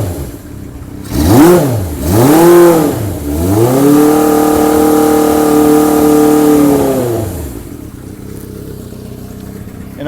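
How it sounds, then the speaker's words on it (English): A 1979 Kawasaki KZ650 motorcycle in neutral revs up twice in quick blips, then holds a longer sustained rev for several seconds before dropping back down, loud and close. "I'll rev the engine so you can kind of hear it."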